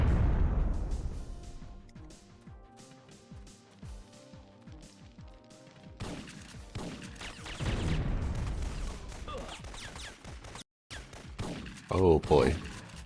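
Gunfire rings out in the PlayStation game Syphon Filter as barrels in a sewer level are shot, with repeated sharp bursts over an echoing backdrop and a voice talking over part of it.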